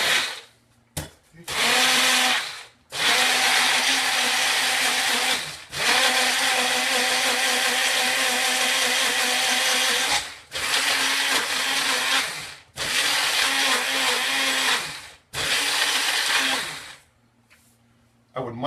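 A kitchen blender churns pancake batter in repeated loud bursts, whirring for a few seconds at a time with short pauses between runs, several cycles in a row, close and dominant.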